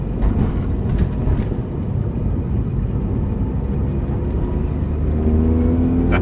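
A cold car engine held below 4,000 rpm while driving, giving a steady, loud low rumble throughout with faint road and wind noise and a rising tonal hum near the end.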